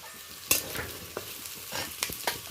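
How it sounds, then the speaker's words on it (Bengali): Carrot and potato pieces are stirred in a frying pan, giving several sharp scraping strokes over a low sizzle, close up, with no talking. "এই সব সবজিগুলো ভালোভাবে নেড়ে হালকা সিদ্ধ করে নেব।"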